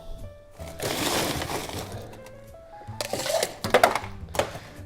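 Ice cubes are dropped into a cocktail glass for a Negroni, with a sustained clattering rush followed by several sharp, close cracks and clinks.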